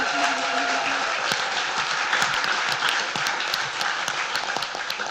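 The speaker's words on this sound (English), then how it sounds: "So save your applause at the end." Sustained applause from a conference audience at the closing of a WordCamp, with many hands clapping steadily throughout and a few sharper individual claps standing out above the dense wash.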